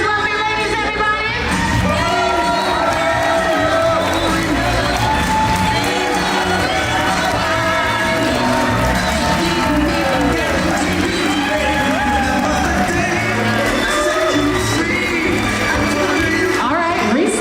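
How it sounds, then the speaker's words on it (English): Wedding guests at Devil's Thumb Ranch cheering, whooping and clapping for the bridal party, a loud dense crowd roar with shouts and applause running throughout and voices mixed in. "Can we please give a round of applause for the bride's people? Make some noise for these lovely ladies, everybody."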